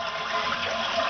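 A freshly repaired toilet flushes with a new handle, a steady close rush of water pouring through the bowl and tank without pause or voices.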